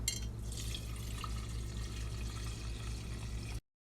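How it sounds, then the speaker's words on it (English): Water pours steadily into a teapot holding chopped pine needles, a continuous close splashing fill that runs alone without talk and cuts off abruptly near the end. "I'm gonna add my water."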